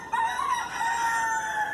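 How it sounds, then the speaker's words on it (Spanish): A rooster crows once, loud and close, in a long drawn-out call that holds steady for over a second in a quiet outdoor setting with no voices. "Y el canto de los gallos."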